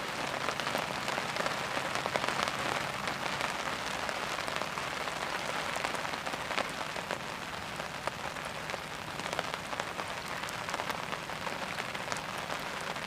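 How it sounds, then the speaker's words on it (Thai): Rain falls steadily at an earthen fishing pond, a dense, even hiss of drops with scattered sharper patters on nearby surfaces, continuous and fairly loud with no speech. "ตอนนี้ก็ฝนตกอย่างที่เห็นนี่แหละครับ"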